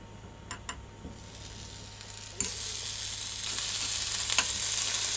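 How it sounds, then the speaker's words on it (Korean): Pork jowl slices sizzling in a preheated frying pan, a steady crackling hiss that swells louder after a sharp clatter midway, with a few faint scrapes early on. "자, 후라이팬에 달궈졌으면 이제 고기부터 구울게요."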